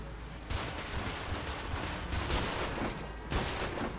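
Steady in-game gunfire from the dinosaur shooter Primal Carnage, aimed at a T. rex, rattles on continuously with several heavier bursts layered through the dense, loud mix.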